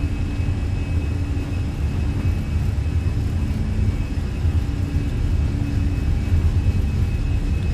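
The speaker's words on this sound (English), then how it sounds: "Takeoff power set. Airspeed's alive." Airliner engines at takeoff power in Microsoft Flight Simulator, an Aer Lingus flight departing Dublin, make a steady, loud broadband roar with low rumble and a faint constant whine, unbroken for several seconds and without talk.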